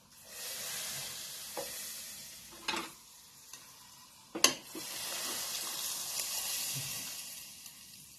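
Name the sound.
pouring red chilli tempering into whole masoor dal, sizzling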